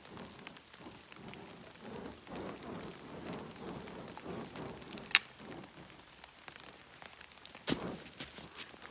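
Steady rain falls outdoors in a continuous wash, with a couple of sharp isolated knocks or splats cutting through the hiss.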